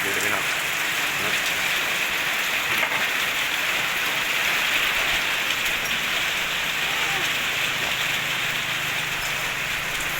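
Steady rain falls continuously, a dense hiss of drops striking surfaces nearby, with faint voices murmuring underneath.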